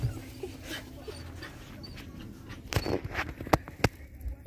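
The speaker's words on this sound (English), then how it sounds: "It's a dog." A Labrador puppy whimpers faintly in a Walmart, with soft whines and a few sharp yips and clicks toward the end amid quiet background noise.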